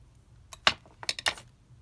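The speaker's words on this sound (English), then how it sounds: "trim this little bit of lace" Scissors trimming a small piece of lace in a craft session, a few quick close snips and rustles in a quiet room.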